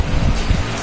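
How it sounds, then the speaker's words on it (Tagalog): Steady, dense rain falls at night, a loud continuous hiss of drops close by with a few heavier low thuds and spatters, with no voices. "umuulan pa"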